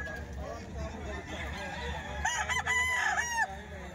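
Rooster crowing at a gamefowl market, one loud close crow near the end, set against market bustle and someone talking.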